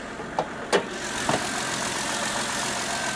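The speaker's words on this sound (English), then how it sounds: "Here, you got a 2013 Honda Pilot with 94K, runs great." A 2013 Honda Pilot with a 3.5 engine and 94K miles runs at idle, a steady, even hum with a few brief louder knocks or clunks early on.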